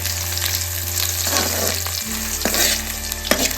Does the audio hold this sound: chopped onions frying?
yes